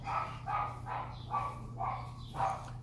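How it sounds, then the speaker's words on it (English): Outside, a dog keeps barking in a run of about six quick, evenly spaced barks, fairly close and distinct above a steady low hum. "crazy dog barking all day."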